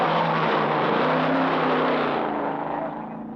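A race car on Bathurst's Mount Panorama circuit runs with a blown, wrecked rear tyre, its loud engine roaring close by, then receding and fading.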